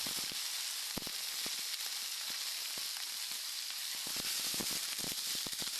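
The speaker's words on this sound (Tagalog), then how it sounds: "pwede na natin ilagay yung ating palakang bukid. At igisa lang natin ng bahagya" Field frogs sauté in a pan with sautéed onion and garlic, giving a steady close sizzle broken by scattered sharp pops and crackles.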